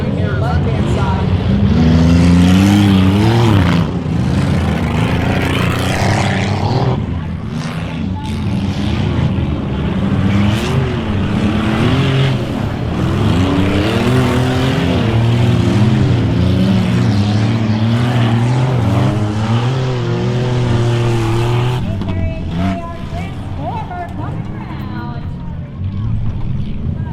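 Race cars roar around a frozen ice racing track at a hardwater event, with loud engine drones rising and falling as they lap while an announcer talks over the track noise.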